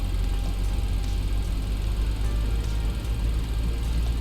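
A steady, droning jet engine roar from a Boeing 737-700 in X-Plane 12, spooling up at start, with a deep rumble and high whine holding constant, close and loud, with no voices.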